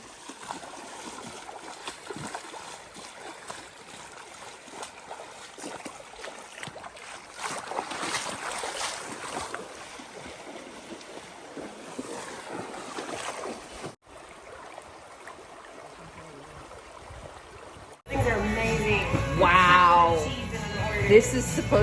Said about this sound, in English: One final water crossing.